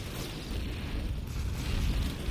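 Rocket launcher explosions in the Planetside 2 online shooter come as a dense, loud, rumbling boom that fills the whole clip with heavy low-end blast noise and no talk.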